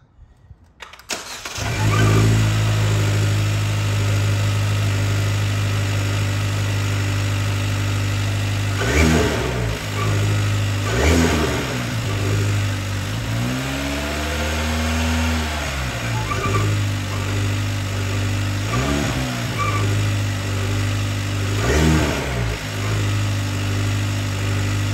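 A Kia K5 GT-Line AWD with a 1.6L turbo engine and a custom-fabricated turbo inlet starts up, then settles into a steady idle broken by several sharp revs and one longer rising rev, heard close and alone.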